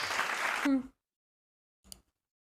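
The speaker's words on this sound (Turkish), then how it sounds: "Alkışlar." A short burst of applause from an audience during a Twitch stream, loud and dense for under a second before cutting off abruptly into silence, followed by a faint brief sound.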